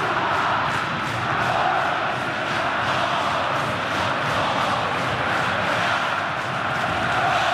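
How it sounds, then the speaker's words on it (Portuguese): A dense, loud football crowd roars and chants steadily in a Brazilian stadium during a Copa do Brasil match between Coritiba and Vasco, a massed wall of voices sustained without pause. "A torcida tem um grito especial para ele"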